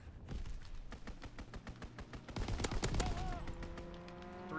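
Fighter aircraft strafing run in a first-person shooter game: a dense burst of rapid gunfire crackles over steady background game noise, peaking in the middle and then easing off.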